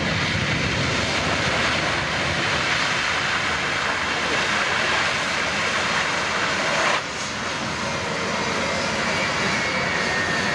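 Military transport aircraft engines starting and running up at the Australian International Airshow, a loud, steady, broadband roar that holds throughout with a slight shift in tone partway.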